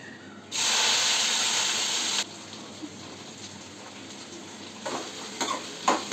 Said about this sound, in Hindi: सो अब ऑलमोस्ट वेजिटेबल्स भी मेरी हो गई हैं सॉटे